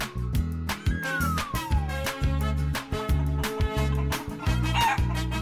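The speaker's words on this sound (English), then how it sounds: "Chicken." A cartoonish chicken clucking rises and falls over a loud, rhythmic children's music track with a pulsing beat and a sliding whistle-like tone.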